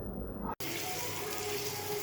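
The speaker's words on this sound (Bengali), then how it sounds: "পরিমাণ মতো পানি দিয়ে দিচ্ছি।" Water being added to a pan of braised pangas fish curry: a steady, close pouring and gushing rush that continues after a brief cut near the start.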